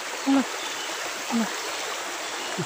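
Water of the Tonsam River in Malaysian forest runs in a steady broadband rush after a flood, with scattered dead wood in the channel; a voice speaks in short bursts over the constant flow.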